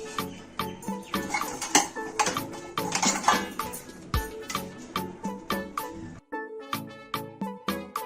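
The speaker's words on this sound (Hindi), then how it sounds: "अब अच्छे से इसको गोभी को स्ट्रेनर से छानकर बॉल में शिफ्ट कर लूंगी" Boiled cauliflower is tipped through a metal strainer into a bowl in a home kitchen, with repeated clanks, clatters and scraping of metal utensils and dishes in an uneven, busy rhythm, loud and close.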